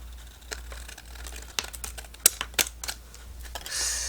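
Scissors snip through paper while trimming a sunburst journaling card, giving a series of sharp, uneven clicks and crisp cuts close by, ending in a brief rustle.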